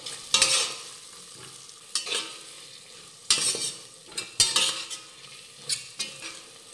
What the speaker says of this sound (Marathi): आता हे मसाले थोडे परतून घेऊयात।